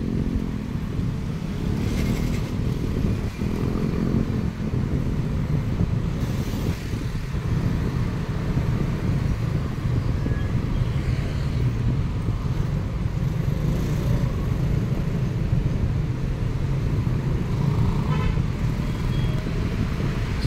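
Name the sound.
road traffic with cars, motorcycles and horns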